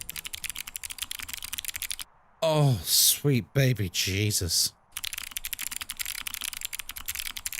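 Fast typing on a mechanical keyboard with Arctic Fox clicky switches produces a dense, sharp clatter of clicks, broken midway by a person speaking an exclamation before the typing resumes.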